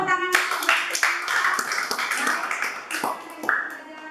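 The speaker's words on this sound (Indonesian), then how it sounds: "Berikan tepuk tangan." Classroom students clapping together, a lively burst of many hands with sharp individual claps mixed in, with voices chattering and calling out over it throughout.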